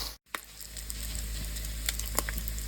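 Bacon cooks in a pan alongside melted butter, giving a faint, continuous sizzle dotted with small scattered pops and crackles, quiet and steady with no talking.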